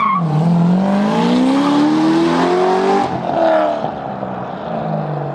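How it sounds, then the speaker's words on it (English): Chevrolet Corvette C6 ZR1 with a quad-tip exhaust and manual exhaust valves, revving loudly up through a rising engine note, then dropping away and blipping again nearby. "I will throw in some exhaust clips."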